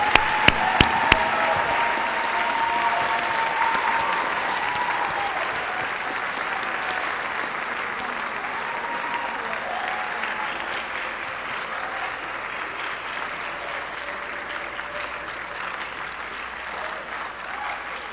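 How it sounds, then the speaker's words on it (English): Sustained audience applause at a Jackson Memorial High School National Honor Society induction ceremony, steady and full for about eighteen seconds and tapering slightly toward the end, with a few sharp claps at the start. "They certainly deserve a hearty round of applause."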